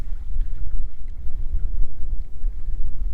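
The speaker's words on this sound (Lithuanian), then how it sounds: "Kaži girdit jūs ką nors, nes vėjas tai žiaurus." Strong wind on a lake roars and buffets the microphone of a fishing boat, making a constant, loud, low rumble with no speech.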